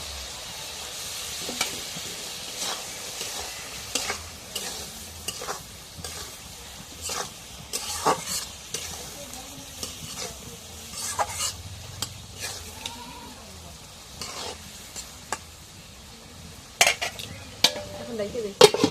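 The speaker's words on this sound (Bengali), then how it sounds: "এখন মশলাটা কষানো হয়েছে, মাছগুলো দিয়ে দিই।" Fish frying in a cooked spice paste in a pan, a continuous low sizzle with repeated scraping strokes of a spoon stirring, growing louder and more clattery toward the end; a goat-like bleat sounds faintly in the background.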